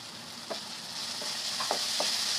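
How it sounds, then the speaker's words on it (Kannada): Ginger garlic paste frying with tomato for a chicken gravy gives a steady, close pan sizzle, with a few soft spoon knocks and stirs breaking through it. "ಇದು ಸ್ವಲ್ಪ ಹಸಿ ಸ್ಮೆಲ್ ಹೋಗೋ ತನಕ ಸ್ವಲ್ಪ ಲೈಟಾಗಿ ಫ್ರೈ ಮಾಡ್ಕೊಳ್ಳೋಣ."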